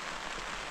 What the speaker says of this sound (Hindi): क्योंकि बहुत तेज़ बारिश है गाइस